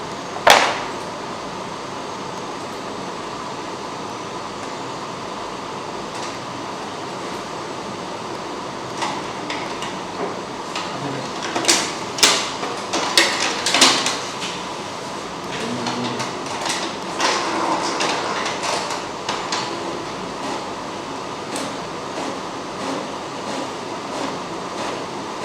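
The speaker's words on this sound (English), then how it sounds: "then we will find a testing page to print out from this printer" An ink printer prints a test page with a steady mechanical whir. Irregular clicks and clatters from the paper feed and print head run over it, with a busier stretch in the middle.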